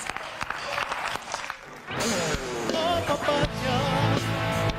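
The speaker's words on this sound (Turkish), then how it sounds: "Alkışlarla açıyoruz." Applause from a TV studio audience swells after a brief stretch of sparse claps, a dense steady patter of many hands that continues to the end.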